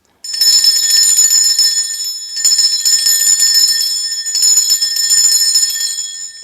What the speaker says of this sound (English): Now that bell is just to cleanse away any energy that's not for our highest and greatest good.